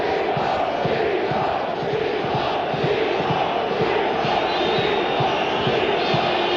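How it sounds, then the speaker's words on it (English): A Berlin football crowd at a Germany versus Bulgaria international roars steadily, a dense wall of massed voices and chanting that holds at full strength throughout with no lulls. "this Berlin crowd, seeing an international for the first time in a long while, seized by patriotic fervor"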